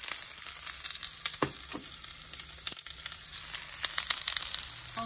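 Onions and zucchini frying in oil in a hot pan, a steady close sizzle running throughout with occasional brief clicks and stirring scrapes, no voices.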